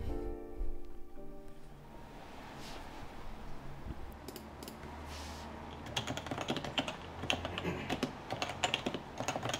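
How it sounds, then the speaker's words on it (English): Typing on an HHKB Professional 2 Topre 60% keyboard, starting with a few faint scattered presses and building to a fast, steady run of soft, muted keystrokes, close and alone. "So I'll be doing a sound test in a bit and you can just listen for yourself just how smooth and nice this keyboard"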